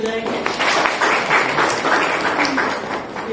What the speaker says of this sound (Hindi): जोरदार तालियां सबके लिए बजाएंगे